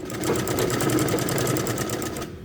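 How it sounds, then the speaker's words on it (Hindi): A sewing machine runs steadily while stitching a suit seam, giving a close, continuous rapid whirr of needle strokes that cuts off at the very end. "बहुत इजी तरीके से हम अपनी सिलाई लगा लेते हैं"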